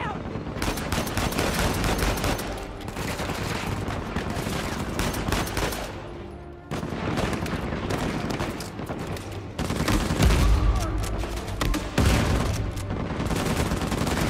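Heavy gunfire rattles on almost without pause during a firefight with a sniper in Uncharted 4, loud and dense with brief lulls and heavier booming hits.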